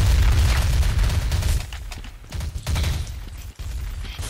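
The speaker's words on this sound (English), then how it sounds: "Warm up round is throwing grenades" Heavy booming blasts and shotgun fire during a Counter-Strike: Source warm-up round, loud and rumbling, with a brief lull midway before the explosive din returns.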